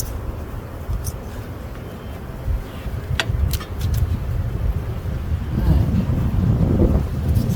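Gusty wind buffets the microphone throughout a spring beehive inspection on a windy day, a continuous low rumble that swells and surges, with a few faint high ticks and no clear speech.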